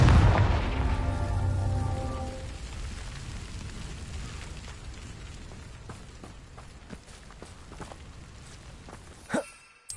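Confringo spell in Hogwarts Legacy bursts with a heavy boom and a bright ringing tone that slowly fades, followed by soft footsteps and a sharp crack near the end; no voices.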